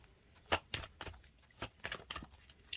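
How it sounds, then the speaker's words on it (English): A deck of tarot cards being shuffled by hand: quiet riffles and soft slaps in an uneven rhythm, close up, with no voice heard. "I'm just going to see how long they want to shuffle for"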